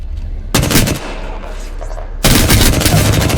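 Loud, close gunfire in the Apex Legends video game, a rapid burst of automatic shots, a short lull, then another sustained stream of fire to the end, with no talk.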